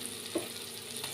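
Boiled brinjal and potatoes drop into an oiled frying pan, giving a faint, soft sizzle with one small clunk near the start.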